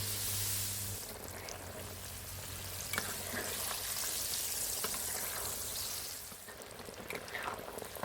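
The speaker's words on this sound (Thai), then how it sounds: "เสร็จแล้วก็นำเต้าหู้ไข่ลงทอดได้เลยครับ" Pieces of egg tofu fry in hot oil over moderate heat, giving a steady, dense sizzle with scattered pops and crackles that eases slightly toward the end.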